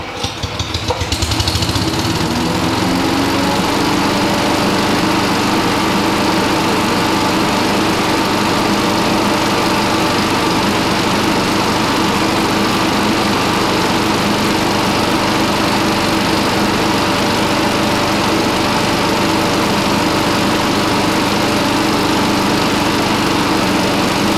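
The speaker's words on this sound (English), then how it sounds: "a PPV, a slightly larger positive pressure ventilator, but nonetheless a gasoline engine producing large amounts of carbon monoxide" Gasoline engine of a larger positive pressure ventilator fan used in fire rescue, running steadily and loudly at close range after a brief start-up, with a constant droning hum and no talk.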